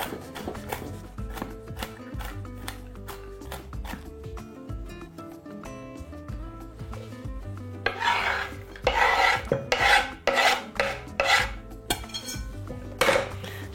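Walnuts being finely chopped for a protein salad, a quick run of sharp knife taps on a board that grow louder and rougher toward the end, mixed with scraping and clinking.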